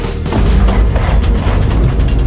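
A Russian-origin 130 mm towed field gun with a long 52-calibre barrel, in Indian Army artillery service, fires: a loud, heavy boom that rolls into sustained low rumbling.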